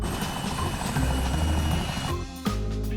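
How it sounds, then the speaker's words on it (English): Military helicopter flying in Arma 3, a steady loud rotor and engine drone with a thudding beat that holds throughout, ending in a sharp thump and a lower, changed hum near the end. "Flying the helicopter to and from base"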